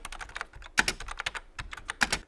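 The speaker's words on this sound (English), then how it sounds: "I've also liked the sound of the keyboard. It's a quite vintage, cool sound." Keys clatter on a heavy vintage DEC VAXstation keyboard, a quick uneven run of sharp clicky strokes with short pauses between bursts, close and clear with no talking.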